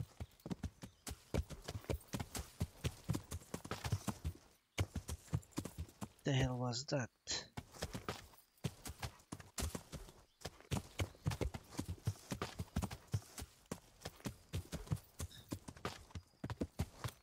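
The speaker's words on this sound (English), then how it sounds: "That's a horse." Hooves in the game Kingdom Come: Deliverance, a steady, rapid clip-clop running throughout at moderate loudness. Someone briefly speaks partway through.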